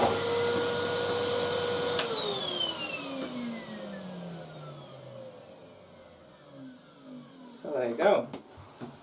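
A Numatic Henry HVR200-11 cylinder vacuum cleaner runs loud and steady on thick carpet, its motor whine then sliding downward as it winds down, with a few brief bumps near the end.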